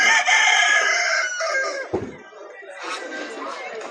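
A rooster crows at a Sabunchu live-poultry market where hens and chicks are sold, a drawn-out call near the start followed by clucking and crowd chatter under nearby voices.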